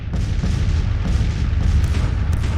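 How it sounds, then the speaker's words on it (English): Massed artillery fire from a Civil War battle in Virginia, 1862, in Grand Tactician: Civil War, rolling booms and overlapping cannon thuds in a dense, continuous barrage with no pauses. "Our artillery are shelling the heck out of him right now"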